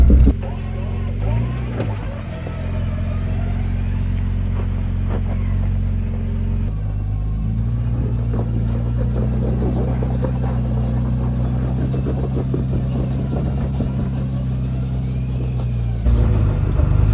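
A Jeep climbs a sandy hill on a hard Moab off-road trail, its engine a steady, low, close rumble that shifts in pitch partway through, with voices talking over it.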